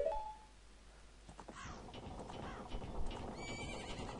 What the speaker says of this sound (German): Süßes Pferd. Oder ist das ein Esel?